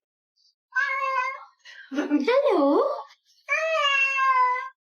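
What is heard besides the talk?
cat meowing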